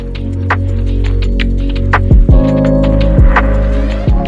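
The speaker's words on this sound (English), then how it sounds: "I blow dry the rest of it this way" A handheld hair dryer runs steadily as hair is blow-dried and brushed with a paddle brush, giving a loud, continuous motor hum and whine with several brief dips in pitch. No one speaks.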